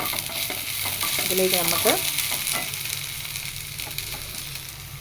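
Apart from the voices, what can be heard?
okra sautéing in a pan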